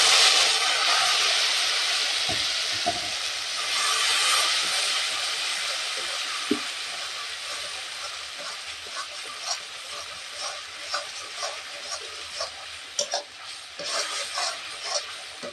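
Spice paste fries in a hot pan with a constant close sizzle and hiss that slowly fades, with occasional stirring knocks and scrapes growing more frequent toward the end.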